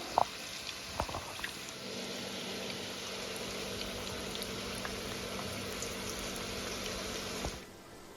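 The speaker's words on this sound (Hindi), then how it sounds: "अभी फ़िलहाल यहाँ से ये जो लौकी है ये फ्राई हो रही है।" Bottle gourd (lauki) frying in hot, smoking oil, a steady bubbling sizzle at low volume with a few small pops near the start, stopping abruptly near the end.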